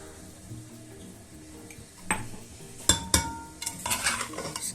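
Ground spices being stirred into homemade pickle, a quiet start giving way to scraping strokes and a few sharp clinks of a spoon against the container, with no talking.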